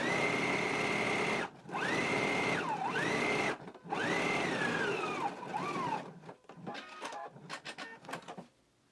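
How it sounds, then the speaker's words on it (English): A sewing machine stitches down a shirt placket in several sustained whirring runs broken by short pauses, its motor pitch rising and dipping, then giving way to a few brief clicks and handling noises. "So we're going to stitch all the way down here on the right front"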